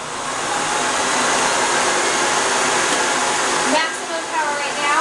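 A Miele S4 Neptune vacuum cleaner roars steadily at maximum power as a loud, close hiss-whine, with a brief dip and some faint talking near the end.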